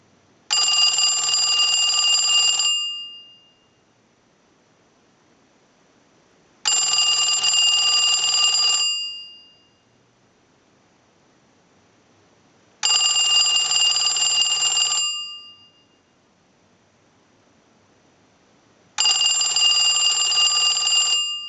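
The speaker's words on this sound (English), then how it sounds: "we'll ring the unit with the analyzer like you were getting a call" A line analyzer rings an AT&T 2554 wall telephone's bell in four long, loud bursts of about two and a half seconds each, separated by quiet pauses.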